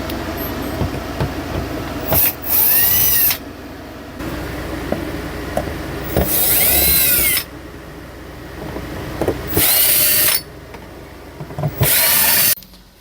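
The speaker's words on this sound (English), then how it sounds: "I'm gonna start by pulling all the screws out of this window panel" A power drill backs screws out of a van window panel in repeated short whirring bursts of about a second each, separated by handling clatter and quieter pauses, loud and close.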